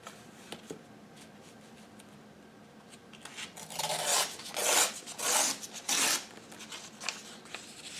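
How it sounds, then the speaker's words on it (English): Paper being cut with scissors for a collage journal, a run of rasping snips and rustles that grows louder midway through, close and alone with no talking. "Okay, we'll cut this down."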